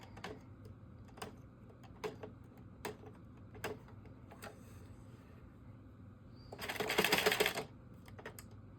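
A knitting machine gives sparse, sharp clicks spaced about a second apart, quiet and close, followed by a brief louder rattling swish of the carriage sliding across the bed, with no talking.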